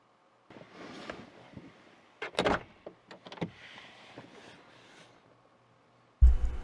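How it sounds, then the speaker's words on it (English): A car door is worked with mechanical clunks and a sharp latch click, followed by quiet rustling, then a sudden loud thump at the end. "What are you doing opening the door, man?"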